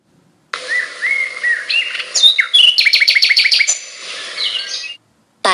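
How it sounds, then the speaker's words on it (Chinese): A tit calling alone, a close, clear series of bright chirps and whistled notes, then a rapid run of repeated sharp trills before the song trails off. "山雀"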